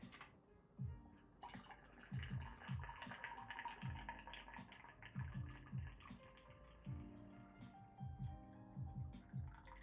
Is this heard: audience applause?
no